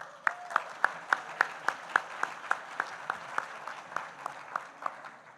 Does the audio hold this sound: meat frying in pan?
no